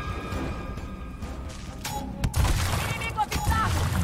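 Shotgun blasts in the turn-based shooter Gears Tactics, a few heavy booming shots in the second half over game ambience and effects, with no talk heard.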